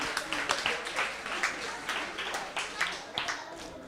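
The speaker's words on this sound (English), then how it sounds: "let's give a round of applause to everyone who volunteered" A small crowd at a community Passover Seder gives a brief round of applause for the volunteers, with scattered, moderately faint clapping over a few seconds.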